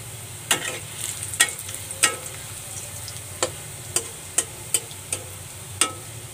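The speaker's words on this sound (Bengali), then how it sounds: "রসুন আর পেঁয়াজগুলো লাল লাল করে ভেজে নেব।" Garlic and onion frying in a pan for a potato and helencha greens dish, a steady close sizzle broken by sharp clacks of a spoon stirring at irregular intervals, with no voices.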